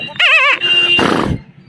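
A man imitates a horse neighing with his voice, a wavering whinny followed by a breathy snorting burst, close and loud with no other talk.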